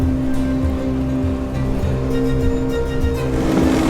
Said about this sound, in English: We're going down the Winyah Bay at 8 knots.